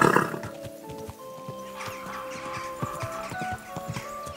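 A horse in Kingdom Come: Deliverance II gives a sharp whinny at the start, then clip-clop hoofbeats keep an even walking rhythm over several seconds, close and clear.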